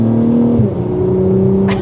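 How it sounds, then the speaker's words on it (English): A 2024 Acura TLX Type S turbo V6 hums with a steady low drone through its adaptive exhaust, its pitch dipping then settling, with a brief burst of exhaust noise at the end. "they've done a phenomenal job with the exhaust on this Type S TLX."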